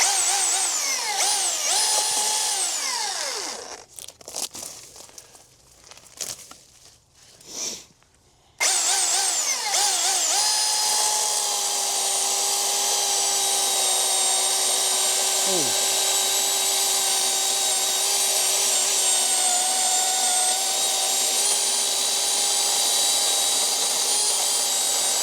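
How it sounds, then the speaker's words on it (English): A Milwaukee M18 FUEL 20-inch dual-battery chainsaw with a full chisel chain cuts through wood, a steady loud high whine that dips briefly to choppy idle and then runs on strongly, with a person speaking briefly early on. "First cut with the full chisel chain."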